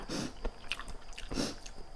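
Close, crisp crunching bites of a crunchy seaweed snack, with two louder chomps about a second apart and softer chewing between them.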